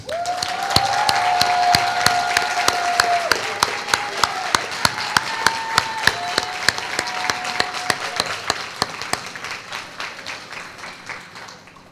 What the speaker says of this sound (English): And now I think we can give her a round of applause.